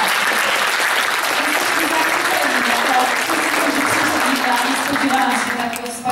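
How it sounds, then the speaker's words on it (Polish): Theatre audience applauding after a performance, steady dense clapping filling the room for several seconds while voices murmur underneath, tapering slightly at the end. "Przede wszystkim wielkie gratulacje dla pana reżysera, że stworzył taką grupę. Wielkie brawa."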